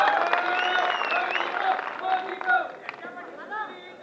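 A crowd at a political rally in Amravati, Maharashtra breaks into sustained clapping mixed with chatter and raised voices, loud and dense at first, then thinning into scattered bursts.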